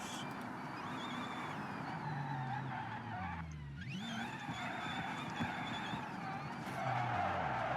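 A car engine in a racing video game, a modified Pessima street car, revs continuously with rising and falling pitch, tires briefly squealing midway, steady and fairly loud throughout.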